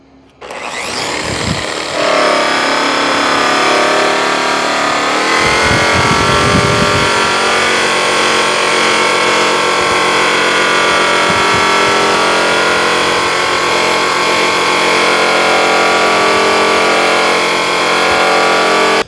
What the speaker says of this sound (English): we're gonna start the actual buffing process on this edge